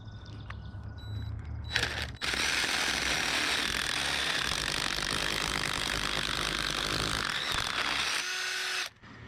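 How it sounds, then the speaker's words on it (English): A power drill enlarges a hole to about 3/4 inch during ground leveling work for a 12 ft by 24 ft above-ground pool. A loud, continuous grinding roar holds steady for several seconds, then cuts off abruptly. "So I'm just going to drill this out."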